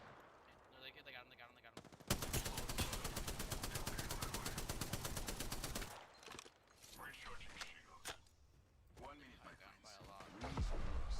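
Gunfire in Apex Legends, with a long sustained burst of rapid automatic fire followed by scattered shots and impacts, loud and close, with players talking before and after.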